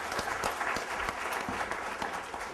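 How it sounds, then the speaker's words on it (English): Audience at a software testing conference applauds a speaker with steady, dense clapping throughout, sustained and fairly loud with no talk over it. "a big round of applause for Sridhar"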